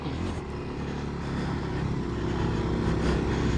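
Kawasaki KLX300 dirt bike held in second gear with a little throttle on a backroad trail, a steady mid-pitched engine drone rising slightly as it builds toward a jump, close and continuous with no talk.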